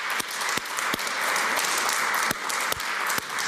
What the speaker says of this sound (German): Ich bitte um einen Applaus für die Preisträgerinnen und Preisträger.